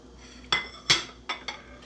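IKEA dishes and metal cutlery clink and rattle as they are handled, with four sharp clatters spaced unevenly over a quiet background.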